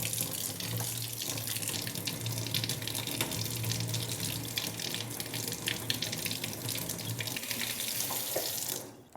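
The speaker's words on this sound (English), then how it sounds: "So I'm gonna clean these at the kitchen sink really quick." Lukewarm water runs steadily from a kitchen sink tap as plant cuttings are rinsed under it, a loud continuous splashing hiss up close that cuts off at the very end.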